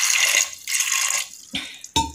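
Water poured onto chickpeas in a plate, two bursts of close splashing and trickling, then a couple of sharp clinks.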